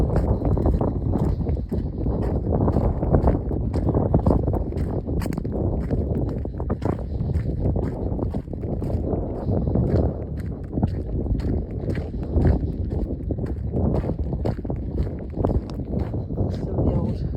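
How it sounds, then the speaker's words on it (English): Gusty wind sweeping across the Haytor heritage trail on Dartmoor, buffeting with a continuous low roar that swells and dips throughout. "I'll let you listen to, well, probably the wind, it's quite windy today."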